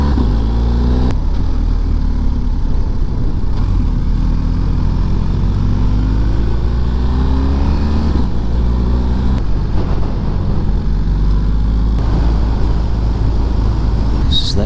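Motorcycle riding along Tasmanian country roads, a loud steady engine drone with rising and falling gear changes and rushing wind, continuous throughout.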